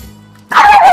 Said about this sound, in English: Katie, my dog doesn't want to be in this video.